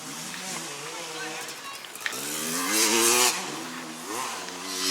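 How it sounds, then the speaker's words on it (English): A vintage motocross motorcycle engine idles and revs at an outdoor vintage bike show, a loud buzzing two-stroke drone that rises and falls, with people talking over it. "That is how a motocross bike's supposed to sound."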